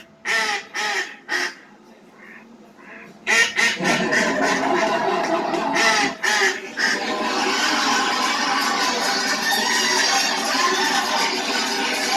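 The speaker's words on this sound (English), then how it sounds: "What the heck's that? Is that a duck?" A duck quacks in a few harsh, repeated bursts at the start, then a loud, continuous noisy wash takes over and masks everything else.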